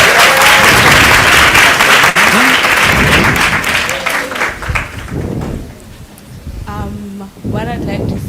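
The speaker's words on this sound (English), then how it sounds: "Please give a round of applause." Dense, loud audience applause at a Maritime Day port open day, sustained for several seconds then thinning out, with voices talking over and after it.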